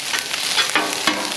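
Vegetables stir-frying on a hot griddle give a steady, close, bright sizzle with a few louder bursts as they are tossed, and no talking.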